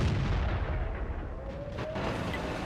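Tank cannon fire in a video game featuring the Soviet T-54 first prototype medium tank: a heavy, dull boom set in a continuous rumbling battle din, with a brief rising whine partway through.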